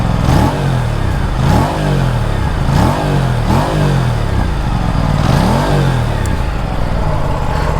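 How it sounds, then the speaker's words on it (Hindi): An Aprilia RS 457 twin-cylinder bike with under-belly exhaust revs repeatedly, its loud close engine note rising and falling in several blips over a steady idle, with no voices. "तो भाई ट्विन सिलेंडर की जो साउंड है वो बहुत ही मज़ेदार आती है इसमें।"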